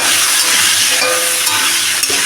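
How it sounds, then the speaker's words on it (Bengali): Potatoes and green banana stir-fry in a pan for a Bengali katla fish curry, a loud steady sizzle and hiss close by, with faint scraping of the stirring, no talking. "এখন আমি এই আলু কাঁচকলাটা দিয়ে দেবো এবার একটু ভাজা ভাজা করে নেবো"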